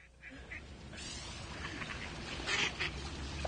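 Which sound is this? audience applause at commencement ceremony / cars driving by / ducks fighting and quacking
ducks fighting and quacking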